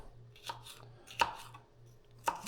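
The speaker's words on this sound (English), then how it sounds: "slicing this up. So whatever your preference on size of peppers." A knife slices through poblano peppers on a cutting board in a home kitchen, making three crisp, well-spaced chops close by over a faint steady hum.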